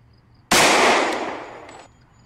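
A single loud gunshot-like burst in the survival video game Project Zomboid, a sharp onset followed by a long decaying roar that fades over about a second and a half, standing alone without talk.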